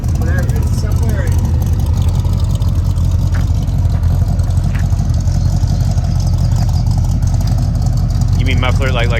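A 1977 Ford Ranger with a modified engine and aftermarket exhaust runs loud and steady, a throbbing idle rumble held throughout, with a brief higher-pitched sound near the end.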